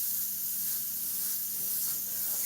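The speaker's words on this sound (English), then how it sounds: "And I can spray that color light too." Airbrush spraying paint at a live painting session, a steady continuous hiss of air and paint that runs unbroken and fairly loud throughout.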